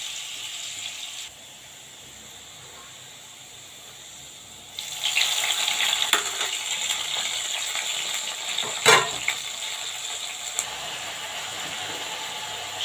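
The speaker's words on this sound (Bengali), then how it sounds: "হালকা করে ভেজে নেব।" Green chilies, onion and garlic are lightly fried in a pan. A faint hush gives way midway to a brighter sizzle with a few sharp clicks and scrapes, and no voices.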